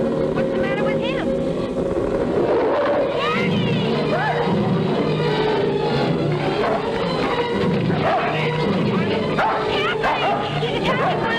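A dog named Barney barks and snarls fiercely while attacking a man on a ranch, sharp yelps and growls mixed with shouting voices and a steady engine drone, loud and close throughout.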